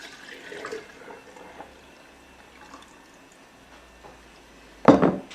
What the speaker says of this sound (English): Here is my milk, and it's not quite 2 quarts because I want to have a little bit of room for my kefir grains in it. So I'm going to pour it into my container.